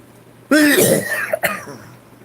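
A single harsh cough and throat clear burst out loudly and close, followed by a shorter second cough, then quiet.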